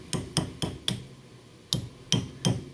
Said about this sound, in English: then you get a hammer and you just kind of tap it on